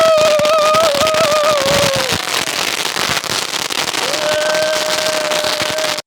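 A hand-held thunder cracker, a big pencil-style Diwali firecracker from Sivakasi, burns loud and close, giving a continuous fizzing crackle laced with shrill whistling tones that rise and fall for about six seconds before cutting off abruptly.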